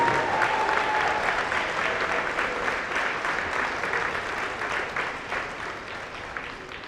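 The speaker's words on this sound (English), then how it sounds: "let's give another nice round of applause out to all those students who won their Seal of Biliteracy." Broad, sustained applause from a large audience at a high school senior honors convocation, honoring students who earned the Seal of Biliteracy; the clapping stays dense and even throughout, tapering slightly toward the end.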